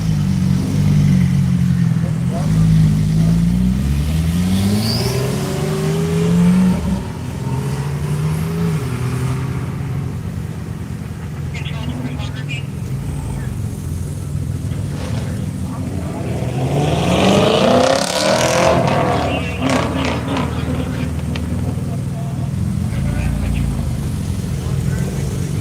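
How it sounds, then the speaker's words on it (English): A Camaro race car on the Hedge Hollow track during the One Lap of America drives past, its engine note rising and falling in long sweeps, loud and close, with talk heard over it. "We got the On the Ledge Racing Camaro right behind Rob."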